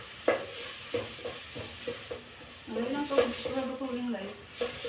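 Sautéed tomatoes for a mung bean stew stirred in a pan, soft scraping strokes and a faint sizzle at low level, with a person talking over them.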